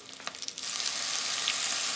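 Minced garlic, about three to four cloves, sizzles with caramelized onions in a pot for tomato basil soup; a few light stirring clicks come first, then a steady, close, continuous frying hiss.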